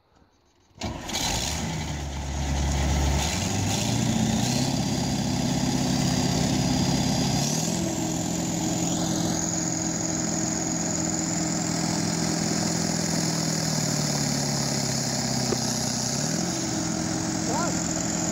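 A combine harvester engine starts and then runs loudly and steadily with a plugged, slipping clutch, its drone shifting in pitch a few times along with a rising whine, while people talk under it.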